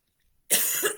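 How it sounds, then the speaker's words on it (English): A single close adult cough, short and sharp after a moment of near silence, indoors. "So I'm going to cough."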